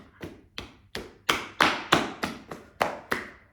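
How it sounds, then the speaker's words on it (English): Bare soles of the feet clapped together in a yoga grounding tapping walk, about ten sharp, close, evenly spaced slaps in a steady rhythm, with no talk. "now do some grounding, tapping walk. So you can just clap with your sole of the feet"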